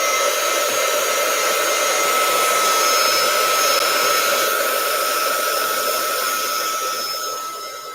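A hair dryer blows steadily at close range over charcoal artwork, a loud continuous whir that holds level and then begins to fade at the end.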